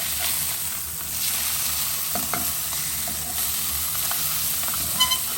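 Lemon sole fish frying in a covered pan with sweet potatoes and courgettes nearby, a steady close sizzle and hiss with a few faint clinks, no voices.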